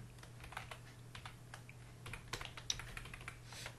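Quiet, steady clatter of keys as code is typed on a computer keyboard, irregular bursts of close keystrokes over a low hum, with no talking.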